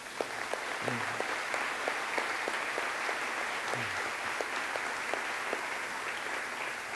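Church congregation applauds steadily in a hall, a dense, even wash of clapping sustained for the whole stretch at moderate level, with a faint murmur of voices beneath.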